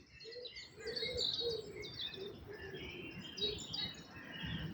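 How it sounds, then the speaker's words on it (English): Crows call repeatedly from outdoors, with harsh, overlapping caws and chirpy cries at moderate distance over a steady background hum, with no talking. "the crows are loud today."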